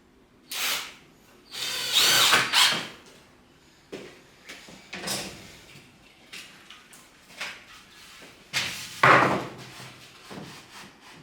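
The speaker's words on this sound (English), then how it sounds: "I'm going to screw a piece on the end here. That'll help me line up all of these slats." A power drill driving screws through a wooden crosspiece onto the ends of garden gate slats, several short whirring bursts with pauses and wood knocks between, close and moderately loud.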